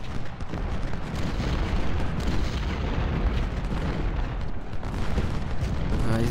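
Cannon artillery in the video game Ultimate General: Civil War, a dense continuous rumble of booming fire and battle noise throughout, loud and without pause.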